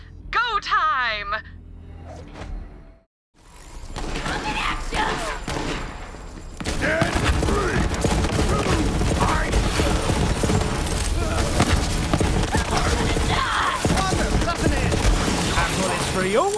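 Gunfire in the video game Borderlands 3, dense rapid bursts and booms in a heavy sustained barrage following a brief quiet gap, mixed with voices talking and shouting.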